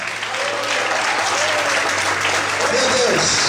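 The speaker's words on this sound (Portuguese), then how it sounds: "Quantos podem aplaudir o Senhor?" A church congregation applauding during a Portuguese-language evening service, a dense, steady roar of clapping throughout, with voices and a sustained tone sounding over it.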